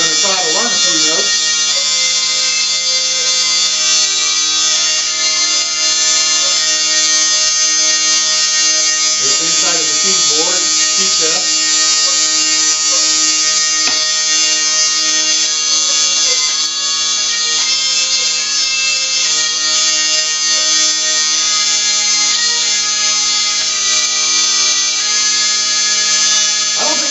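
A scratch-built hurdy gurdy plays continuously and loudly, its steady droning buzz layered with a few wavering, tentative melody notes that come and go over the sustained tone; its wheel is new and not yet broken in.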